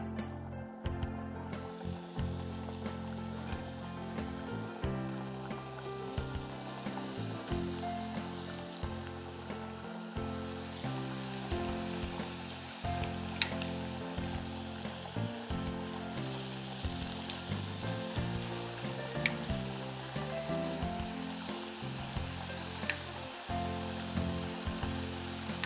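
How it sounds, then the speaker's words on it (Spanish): Spoonfuls of buñuelo de viento dough frying in medium-hot oil, a continuous close crackling sizzle with dense popping bubbles that carries on steadily and alone, with no talking. "Vamos a empezar a freír, ¿sí? La temperatura del aceite es media, a temperatura media, para que se frían bien."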